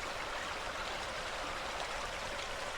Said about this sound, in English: how the creek flows up to this point, then gets diverted into that man-made channel